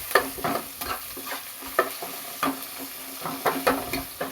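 Chopped onion sizzles in hot oil in a pan on a gas stove, being browned for a tilapia fish curry with cauliflower and potato; a steady crackle runs under repeated close scraping stirs, with no talking.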